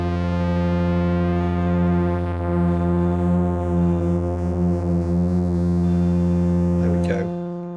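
Motor Synth MkII synthesizer with drift set to 100%, a sustained buzzy tone with wavering, detuned pitch held steadily for several seconds, loud and alone, cutting off sharply near the end.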